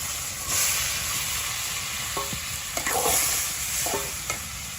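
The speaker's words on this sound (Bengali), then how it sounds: "তেল হয়ে গেছে তো মাছগুলো দিয়ে দেওয়া হইতেছে" Small prawns (icha fish) frying in hot oil in a village kitchen, a steady close sizzle and hiss with a few metallic scrapes and clinks from stirring.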